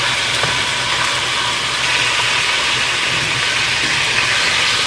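Frozen food sizzling and hissing in a pan with water added while being stir-fried, a steady loud broadband hiss and crackle that continues without pause.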